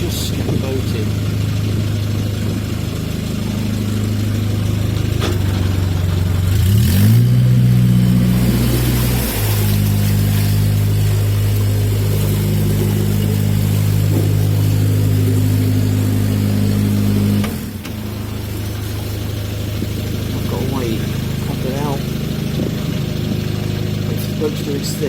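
A narrowboat engine idles and revs as the boat enters a small, shallow lock on the River Great Ouse. Its loud, close, steady chug rises in pitch twice, settles, then drops briefly before carrying on.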